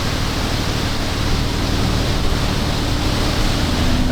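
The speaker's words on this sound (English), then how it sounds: "That's the creek we're gonna be walking up." A creek flows in a steady, loud, broadband rush of water, unbroken and close, with no voices over it.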